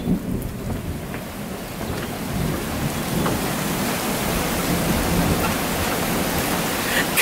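Thunder rumbles through steady heavy rain of a lightning storm, a broad continuous wash of downpour with low rolling booms, fairly loud and unbroken for the whole stretch, with no talking.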